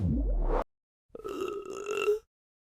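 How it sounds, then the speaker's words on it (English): Person burping after a meal: a short low burp, a pause, then a longer, more drawn-out, tonal burp, close and clear. "Another sign is burping soon after meals."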